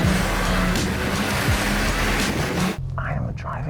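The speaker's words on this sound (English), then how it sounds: "Will it do a donut? Take one." A car engine roars with tire squeal as the vehicle spins, the noise steady and loud before cutting off abruptly, with voices around it.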